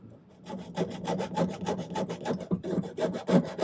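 A jeweller's saw cuts through a strip of woven silver wire for a ring, giving quick, even back-and-forth rasping strokes up close, with no voices.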